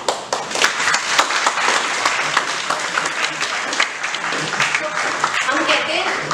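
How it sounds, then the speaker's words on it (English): A seated audience at a workshop on communication skills and goal setting claps steadily for a participant named Nishan, a dense, even patter of many hands sustained throughout, with faint voices mixed underneath. "clap for Nishan, but you are actually clapping for your heart"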